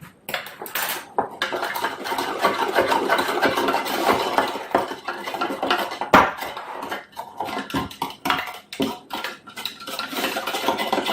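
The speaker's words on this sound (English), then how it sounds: "I just stir it till the sugar's gone" A spoon stirs sugar into spinach salad dressing in a bowl, giving a steady run of close clinks and scrapes against the dish that keeps going throughout with no talking.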